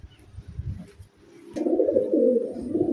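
Domestic competition racing pigeons coo close by, first with a few soft low calls, then a louder sustained burst of throaty cooing in the second half.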